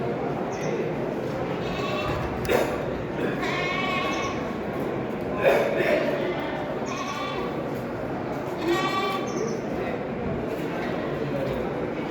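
Goats bleat repeatedly at the Boseong goat auction market, where about 300 animals are penned. Several wavering cries rise at intervals over a steady crowd murmur and people talking nearby.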